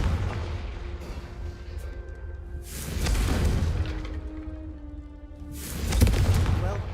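Confringo fire spell exploding in Hogwarts Legacy, two moderate booming bursts a few seconds apart over low game ambience, with a faint voice.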